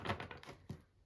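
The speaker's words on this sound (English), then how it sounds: "I like the sound of shuffling sometimes." Tarot cards are shuffled close by, giving a quick run of soft riffling slaps and flutters that fade out after a final flick.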